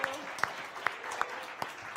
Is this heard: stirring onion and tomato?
no